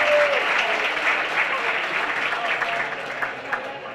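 An indoor awards-ceremony audience applauds for Fire Chief Reggie Freeman, a steady wash of clapping from many hands that holds fairly loud, then thins and tapers toward the end.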